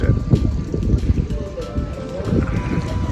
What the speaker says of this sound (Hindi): इतनी ठंड, ऊपर से इतनी तेज हवा, बहुत तेज चल रही है हवा